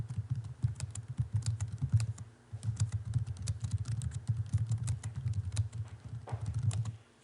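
Keys clatter on a computer keyboard while notes are typed into an action in eClinicalWorks medical software, a close, steady run of quick taps with a brief pause midway, no voices.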